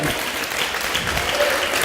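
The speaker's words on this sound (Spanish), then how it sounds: "Alguien puede darle palmas al Señor." A church congregation claps in praise to the Lord, a dense and steady burst of loud, close applause filling the moment with no speech over it.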